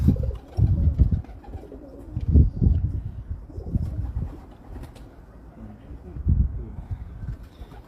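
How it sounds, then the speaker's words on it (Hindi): Dub pigeons coo in low, throaty, rolling bursts close by. The calls repeat several times with pauses between them, over faint background sounds. "डब वाले कबूतर हमारे।"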